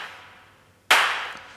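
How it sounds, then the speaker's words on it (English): A dancey electronic clap sample from a Hard Techno Remix drum kit hits once, sharp and bright, after a faint fading tail, then rings out with a short decaying reverb. "which is like a dancey kind of clap,"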